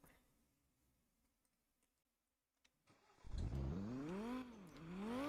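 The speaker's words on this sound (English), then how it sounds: "Does this engine sound different? Is the V10 a different sound?" Audi R8 V10 engine in the Roblox game starting up and revving after a quiet stretch, loud rising and falling tones sweeping up and down alone with no talk.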